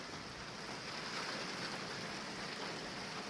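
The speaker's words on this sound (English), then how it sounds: "But we're currently being blessed with rain." Steady outdoor rain hisses faintly and evenly for a few seconds at a sawmill site, a soft continuous patter with no voices or other distinct sounds.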